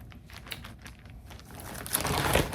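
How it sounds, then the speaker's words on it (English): Paper cross-stitch charts crinkle as they are leafed through quickly, a soft rustle that swells into a louder, brighter crumpling toward the end, close and without talking. "Sorry for the crinkling."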